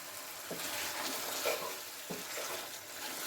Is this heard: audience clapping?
no